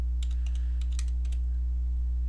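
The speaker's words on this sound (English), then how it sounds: "And I type in my data" Quick bursts of keystrokes on a computer keyboard, close and clear over a steady electrical hum, with no talking.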